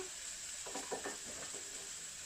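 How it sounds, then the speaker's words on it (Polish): Onion and sausage frying in a pan for a hearty scrambled-egg breakfast, giving a soft, steady sizzle with a few brief stirring scrapes partway through, fairly quiet throughout. "To co na papierze się smaży, czyli cebulka z kiełbaską."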